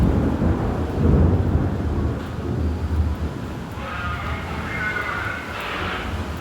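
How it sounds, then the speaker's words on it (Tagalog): A heavy downpour roars steadily with deep rumbling underneath, a dense constant rush of rain that stays loud throughout. "Grabe kalakas ng ulan"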